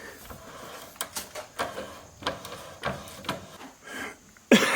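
A hand die is worked onto black iron pipe clamped in a vise, giving repeated rasping, ratcheting strokes at a steady rhythm, close and moderately loud, ending in a sharper metallic knock.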